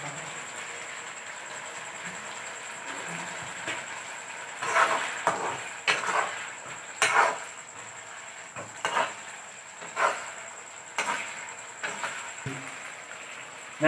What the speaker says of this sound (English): Saute all the ingredients. Give them a quick stir.